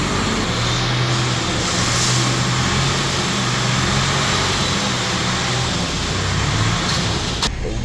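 Steady engine drone and road rumble fill the cab of a moving tow truck, a low continuous hum with faint hiss above, carrying a nearly new car whose transmission failed at 7,000 kilometers.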